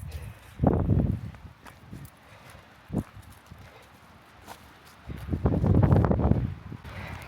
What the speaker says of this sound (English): it is kind of windy to be up here